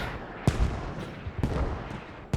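Mortar rounds fire in the tactical shooter Squad, three sharp booming reports spaced about a second apart over a rumbling battlefield backdrop, fairly close and loud.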